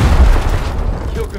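A frag grenade blast in the Gears Tactics video game, a single loud deep boom that rumbles and fades over about a second.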